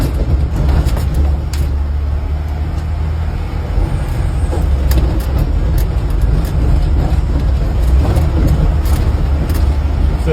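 A Banderomobile 'Kopiyka' car rolls over potholed road, its engine a steady loud rumble close by with repeated thumps and rattles as the wheels drop into holes.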